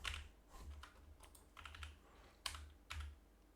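Computer keyboard keys clack in short uneven bursts while Haskell code is typed, fairly quiet and close, with no talk over them.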